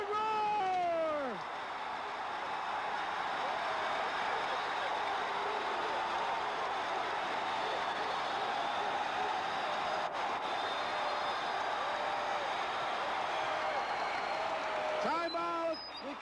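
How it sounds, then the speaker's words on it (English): A basketball arena crowd during a 1999 MBA game, Manila Metro Stars against Cebu Gems, roaring in a steady, broad wash of noise that holds for many seconds, with brief tonal sounds at the start and end. "And listen to this crowd roar!"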